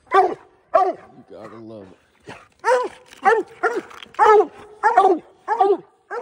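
American Leopard hounds bark loudly and close at raccoons up a tree, a rapid run of sharp, ringing barks with a brief howling whine among them, while someone talks between the barks.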